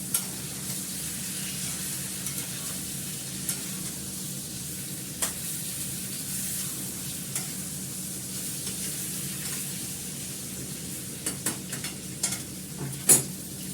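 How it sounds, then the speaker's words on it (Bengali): Onion masala with chicken and potato sautéing in a pan, a steady soft sizzle with occasional scrapes and stirring knocks of a utensil, moderately close and without speech. "যথেষ্ট কষে গেছে, এরপর কষাতে গেলে পেঁয়াজগুলো পোড়া লেগে যায়"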